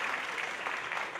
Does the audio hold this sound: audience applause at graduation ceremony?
yes